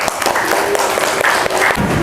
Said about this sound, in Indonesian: Beri tepuk tangan untuk Ara